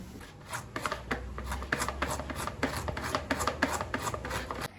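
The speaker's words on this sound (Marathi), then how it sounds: "चला आता गाजर किसू." Carrots being grated by hand for carrot halwa, a rapid run of scraping strokes in a steady, slightly uneven rhythm, close and clear with no talking.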